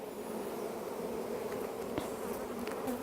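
A bee buzzing steadily and close, a continuous droning hum that holds level throughout, with no voices.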